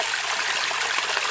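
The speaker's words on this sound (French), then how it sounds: "Juste derrière moi j'ai une petite rivière" A small river in a forest runs with a steady, loud, broadband rush and trickle of water that stays even throughout, close by and uninterrupted, with no voices.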